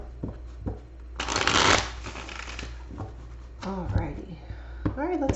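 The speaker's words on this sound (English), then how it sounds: "I just like to shuffle, in front of the camera so that you guys know that I'm not rigging the cards." A deck of tarot cards is riffled and shuffled close up in a dense, rapid burst, followed by softer card handling while a person talks over it.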